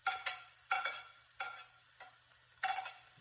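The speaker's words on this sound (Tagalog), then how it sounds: "Saglit ang gisahan lang ito" Garlic sautéing in a pan, stirred in five distinct strokes, each a sharp scrape with a short sizzling tail, close and fairly quiet, with no talking.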